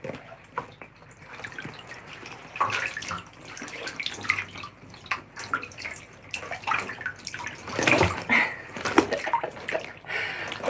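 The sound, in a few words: washing a wetsuit with running water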